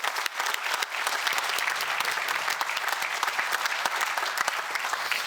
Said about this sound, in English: So you should all give yourself a round of applause for everything you've done to move this forward.